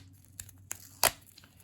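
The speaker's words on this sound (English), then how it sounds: "because it doesn't come with a dispenser, it's harder to tear off. But you can do it with your hands." Gorilla Tape torn off by hand, a few short crinkly rips close up, ending in one sharp louder tear.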